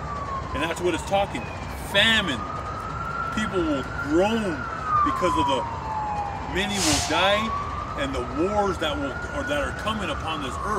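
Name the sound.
ambulance siren passing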